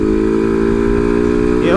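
A motorcycle engine with a loud, deep exhaust roar runs steadily for a couple of seconds, close and strong, with a slight rise in pitch near the end.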